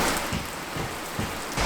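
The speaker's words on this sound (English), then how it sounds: "It is so loud with the rain." Heavy rain beats on a house under renovation, a dense, steady hiss of drops on the surfaces with a few faint low thumps and no voices.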